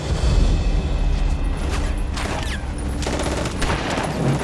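Sustained heavy gunfire rattles through a D-Day beach battle scene, with dense overlapping bursts and booms that stay loud and continuous throughout.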